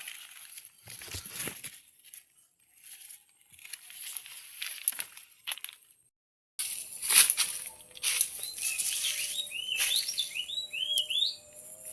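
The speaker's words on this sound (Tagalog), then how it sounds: "Ganda ng tunog ng ibon guys." Outdoor birdsong in grassy surroundings: repeated bright chirps and tweets, some near and some farther off, with rustling and crinkling in between and a short silent gap midway.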